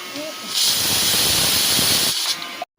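A pressure cooker boiling food on a home stove lets out a loud, steady burst of hissing steam lasting about a second and a half, preceded and followed by quieter kitchen sounds.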